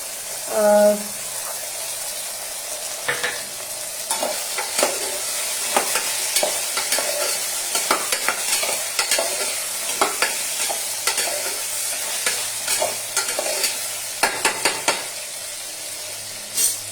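Soda and green peas are stirred into ghee with whole-spice masala in a home kitchen pan, a steady sizzle under repeated scraping and clinking of a spoon against the pot, with a brief voice at the start.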